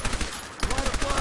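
Rapid bursts of gunfire in the Fallout 4 video game, a fast string of sharp repeated shots with a brief gap midway, loud and close, with game combat noise underneath.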